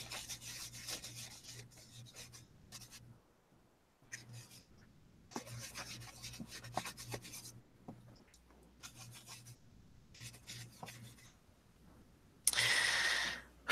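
A baby wipe rubs paint into a collage in repeated soft, scratchy strokes of varying length with short pauses between them. The sound is close and fairly quiet.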